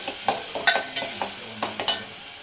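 Slit green chillies dropped into hot oil for aunttu pulusu, a traditional Telugu dish, sizzle softly while a spoon stirs with a series of light scraping clicks, close and fairly quiet.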